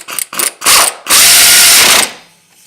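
Hand ratchet running a bolt back down on a 2007 Chevrolet Cobalt during front rotor and strut work, close and loud: three quick clicking bursts, then a longer continuous rasp of ratcheting that stops abruptly.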